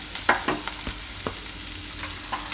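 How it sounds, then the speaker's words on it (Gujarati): Poha (flattened rice) with onion and green coriander is stirred and turned in a pan, giving a run of soft scraping clicks and rustles over a faint sizzle, close and steady with no talking. "થોડીક વાર આ રીતે ફેરવી"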